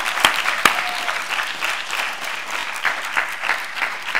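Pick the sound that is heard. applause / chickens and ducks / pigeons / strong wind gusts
applause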